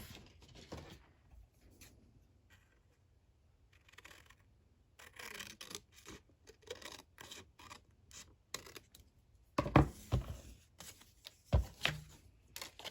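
Scissors cutting the corner off a paper pocket for a scrapbook mini album, with soft rubbing and handling noises followed by a few sharp snips near the end, close and quiet.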